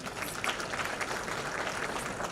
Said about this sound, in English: You must clap for him.